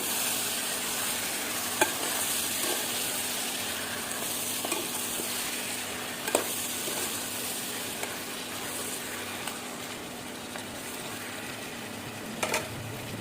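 Mutton curry sizzles steadily in a pan while a spoon stirs it, with occasional scrapes and clinks over the continuous frying hiss, close and fairly loud throughout.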